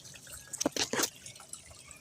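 Cold water from a small spring emerging beneath a tree near a creek trickles and drips in a short burst of a few splashy drops, close and fairly quiet, against faint outdoor background.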